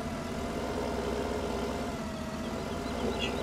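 A tractor engine in Farming Simulator 17 runs at a steady idle throughout, a low continuous rumble with no speech over it.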